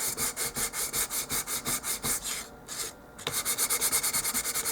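Buffing a small doll-sized marble cutting board, a close rhythmic scrubbing rasp of quick, even back-and-forth strokes with a short break midway before resuming, no voices.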